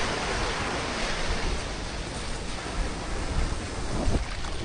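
Fast-flowing river water rushing into the ocean where a channel has been cut through a beach, heard as a loud, dense, steady roar of churning water with wind buffeting, no voices.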